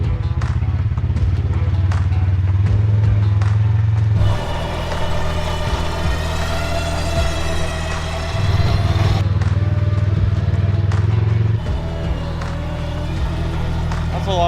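A car engine drones loudly under wind noise, then rises into a strained revving whine as the throttle is pressed, settling back to a rough idle.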